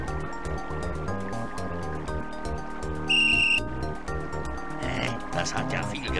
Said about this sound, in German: Das ist eine magische Pfeife.